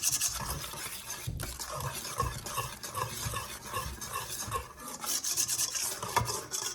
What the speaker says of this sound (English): Whisk in those ingredients.